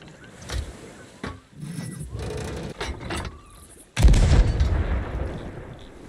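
Fireworks going off in the pirate game Sea of Thieves, a few sharp bursts early on and then a loud, booming blast that rumbles and fades, with soft game ambience between.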